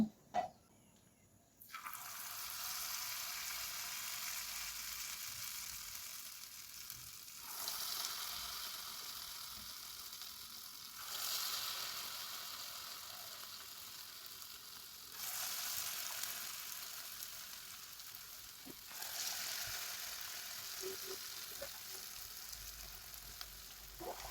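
Potato pakoras sizzle in hot oil in a pan on a medium-low flame, a steady close hiss that swells in waves with occasional small pops and clinks.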